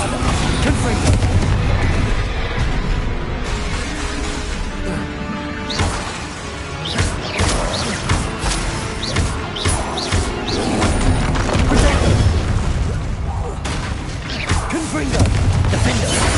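Bombarda and Confringo spells explode repeatedly through a Hogwarts Legacy duel, a steady barrage of booms and crashes with sharp cracks layered over dense rumbling, loud and close throughout, with voices calling out between blasts.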